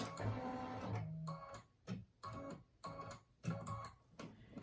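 An embroidery machine stitches small placement lines at the bottom of an in-the-hoop pen holder design, its needle chattering in rapid mechanical bursts separated by brief pauses, close and steady with no voices.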